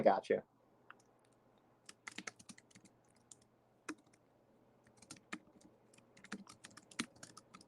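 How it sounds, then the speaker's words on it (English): Computer keyboard typing in scattered bursts of sharp clicks, moderately close, with a brief voice at the very start and quiet stretches between keystroke runs during a sports pregame livestream. "So if I'm typing, I can't pay attention."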